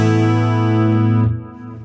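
A sustained guitar chord through an Axe-Fx III detune effect, with a thick, slightly detuned shimmer, holds steady, then is cut off and decays quickly.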